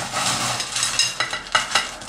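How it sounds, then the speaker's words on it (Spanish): Crushed ice goes into a mojito glass over muddled mint leaves, landing in a quick run of bright rattling clatters and clinks, close and fairly loud, with no talking. "Ahora vamos a echarle hielo picado"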